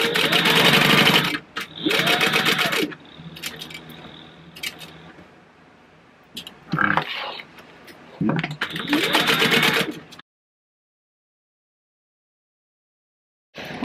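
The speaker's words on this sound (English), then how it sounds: "we're going to go ahead and top stitching all the way around" A sewing machine topstitches around a purse in several loud, rapid bursts of stitching separated by pauses, close up, with brief quiet talk between runs and then silence.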